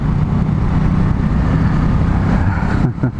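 A Honda CB250RS motorcycle engine drones steadily while riding on a cold day, heavily buffeted by wind noise against the microphone, with a brief dip near the end.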